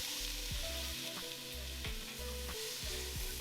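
Onions and garlic sizzle in shimmering oil in a pan over medium-high heat, a steady close, loud frying hiss with soft scraping and stirring clatter throughout and no talk.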